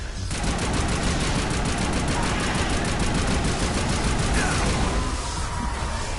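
Rapid automatic gunfire in the video game Mass Effect, a dense, loud, unbroken stream of shots filling the whole stretch, with a few other game effects mixed in near the end.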